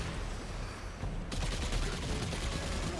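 Rapid SMG fire in the sci-fi shooter Destiny 2, a dense stream of shots that builds into a sharper, louder burst partway through, heard alone without talk.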